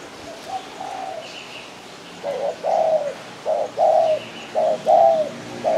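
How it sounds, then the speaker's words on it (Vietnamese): A spotted dove coos in a repeated series of soft, hollow calls, close and clear, with short pauses between phrases and faint background chirps. "Cái tiếng gù con chim này nè."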